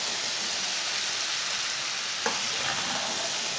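Okra (bhindi) frying in a pan over low heat gives a steady, even sizzle, with one small clink near the middle of the clip.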